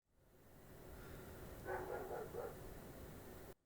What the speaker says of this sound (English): Always barking, that dog is.